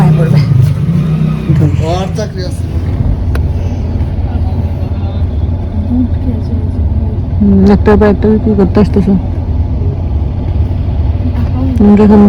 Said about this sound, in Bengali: ঢাকা শহরের জ্যামে বসে আছি জ্যামে জ্যামে না ট্রাফিক আর কি তো ট্রাফিকে বসে আছি